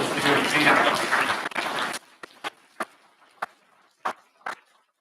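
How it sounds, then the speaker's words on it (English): Applause for high school student champions at a school board meeting, a thick burst of clapping from the room that stops abruptly, followed by a few scattered single claps in a quiet hall. "Let's give another round of applause to our Lake River High School student champions."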